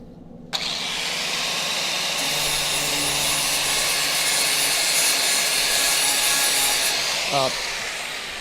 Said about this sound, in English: Let me get the grinder out. We need the flap disc again.